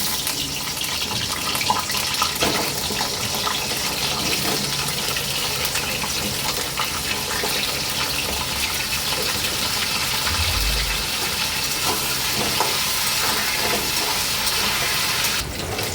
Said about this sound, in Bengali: এই তেলের মধ্যে একটু আলুগুলো ভেজে নেবো।